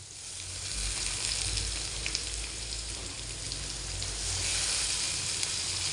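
Onion, ginger and green chilli fry in hot oil, a continuous dense sizzle close by that swells slightly toward the end, with no talking.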